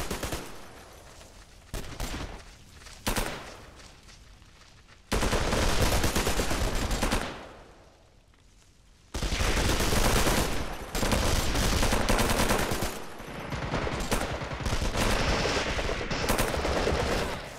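Dense gunfire and machine-gun bursts fill a Vietnam War video game battle, loud and close, with sustained automatic fire broken by brief lulls and sharp single shots.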